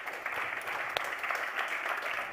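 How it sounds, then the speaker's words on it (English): An audience at a conference on electricity market design applauds a panel, giving a steady, dense wash of clapping from a crowd in a hall that holds evenly throughout. "Could we have a round of applause for our panel"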